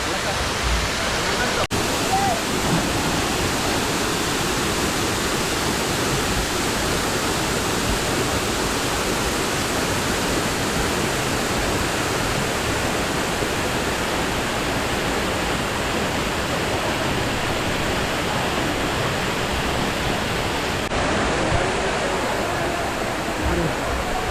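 A steady, dense roar of falling water from the Ezharakund waterfall fills the scene continuously, loud and unbroken from start to finish.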